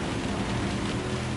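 Heavy rain drumming on a Toyota Tundra TRD Pro truck in Gran Turismo 7, a steady, dense wash of noise that stays loud and unbroken throughout, with no voices.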